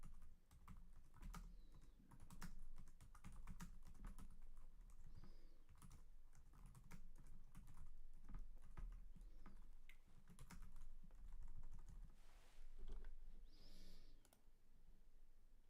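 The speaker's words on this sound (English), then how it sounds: "I'm going to go ahead and type in the lick of the week." Computer keyboard typing in a guitar practice setting, a steady run of quick, close clicking keystrokes with brief pauses, continuing alone for about sixteen seconds with no talk.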